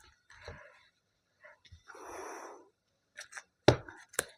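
Tarot cards being shuffled by hand: soft, scattered rustles and a brief papery riffle, then a few sharp taps as cards are set down, close and quiet against near silence.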